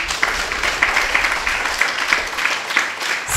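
An audience at a spiritual lecture breaks into steady clapping, a dense patter of many hands with slightly pulsing peaks, moderately loud and continuous.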